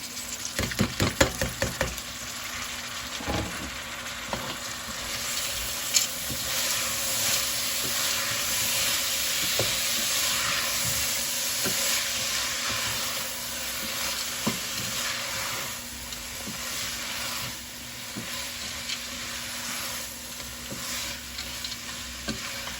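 Green lentils stirred into a pot with chickpeas for a noodle lentil soup, a quiet steady hiss and simmer with a burst of clattering knocks early on, then occasional soft stirring taps, no talk.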